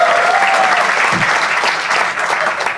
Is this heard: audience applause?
yes